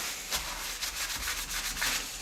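A metal part is rubbed clean with WD-40 and a rag, a soft, quick rhythmic scrubbing of short strokes heard close and alone.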